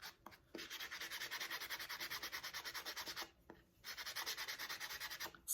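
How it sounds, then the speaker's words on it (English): Rhythmic back-and-forth sanding rasps under the petals of a handmade fairy house, quick even strokes close up with a brief pause midway, fairly quiet and with no voices. "So if there's little areas that are rough or whatever, you can sand them. Just sand under these petals a little bit."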